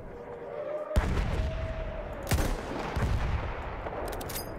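Gunfire in the video game Battlefield 1, with several loud, sharp single shots spaced a second or so apart, each with a booming tail, over faint background ambience.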